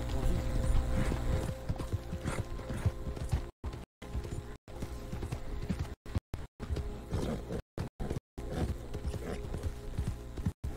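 Horse trotting in the video game Red Dead Redemption 2, a quick, steady clip-clop of hooves running without a break, fairly faint, with the game audio cutting out in brief gaps.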